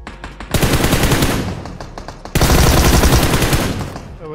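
Rapid automatic gunfire from a competitive shooter video game, heard as two sustained loud bursts of close, rattling shots separated by a short pause, with no talking.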